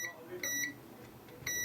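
Short high-pitched electronic beeps from a multimeter continuity test sound in brief bursts, about three in all, clear against a quiet background.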